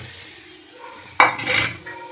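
Coconut and ingredients tipped into a cooking pan for cluster bean poriyal, a sudden clatter and scrape followed by a soft sizzling rustle, close and brief against a quiet stovetop hiss.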